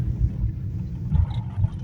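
A lifted Jeep Liberty KJ driving on a transfer case test drive, heard as a steady low engine and road rumble with slight wind noise.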